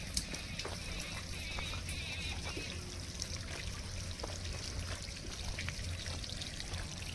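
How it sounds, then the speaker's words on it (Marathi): Water runs downhill from the Dive Ghat slopes toward Mastani Lake near Pune, a soft continuous trickle and gurgle with scattered small splashes, fairly faint and steady, no talking. "इथं सगळं पाणी चाललेलं आहे खाली"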